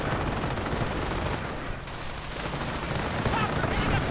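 Battle sounds from a WWII real-time strategy game match with Panzer tanks and infantry, a dense, continuous roar of gunfire and blasts that holds steady throughout and is loud and busy from start to finish.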